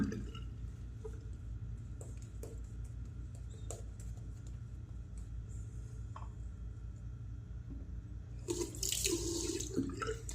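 Water running steadily from a bathroom sink tap, quiet and continuous, with a brief louder splash near the end.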